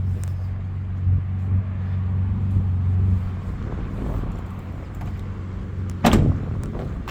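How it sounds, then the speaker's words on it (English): A Mazda RX7 FD car door swings shut with a single solid thump near the six-second mark, set against a low steady rumble of background noise. "Door's a bit of a pain to close"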